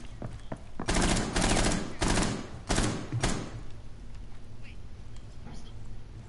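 Rapid automatic gunfire from the game Rainbow Six Siege, in several loud close bursts about a second long, then quieter background noise.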